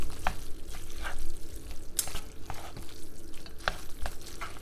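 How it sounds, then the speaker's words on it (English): Jjapaguri noodles are mixed with steak in a pan, giving wet, sticky stirring and gentle sizzling with several clicks and scrapes of the utensil against the pan, close up and without talk. "and then mix up together. Mix up nicely."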